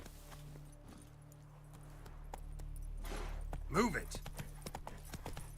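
Roach the horse's hooves clip-clop in The Witcher 3, a series of soft, rhythmic hoofbeats over faint game ambience, with a voice speaking briefly near the end.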